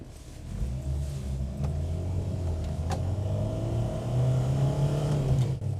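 A Renault 4 GTL's engine revs steadily and loudly from up close, a continuous low rumbling drone that rises in pitch toward the end, with no talking.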